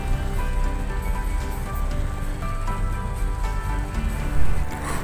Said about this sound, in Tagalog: Bumagsak na ang malakas na ulan.